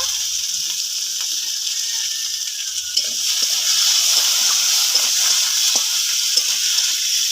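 Ginger, garlic and tomato with a little salt sizzle steadily in oil in a pan, a constant bright hiss that grows slightly louder midway, with occasional soft stirring taps.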